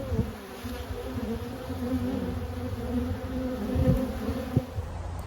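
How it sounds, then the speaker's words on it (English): Honeybees swarm around a farm beehive on orientation flights, a dense steady hum of many wings close by, with a few louder passes as individual bees fly near. "Probably some bees just hatched and they're all doing their orientation flight."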